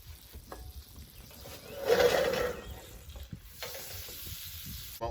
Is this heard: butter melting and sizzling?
yes